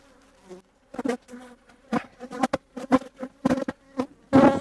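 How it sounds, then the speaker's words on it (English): Bees buzz close around a beekeeper wearing a bee suit, their whine surging and fading in short, uneven bursts with no voices. "you can even get stung with the bee suit on"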